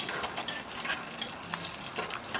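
Onions and garlic frying in a pan for coconut milk rice, a continuous close sizzle broken by repeated stirring scrapes against the pan, with no talking.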